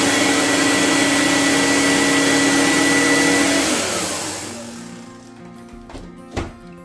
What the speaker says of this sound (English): So here's my loudest plug-in vacuum, and I'm going to let you guys hear that.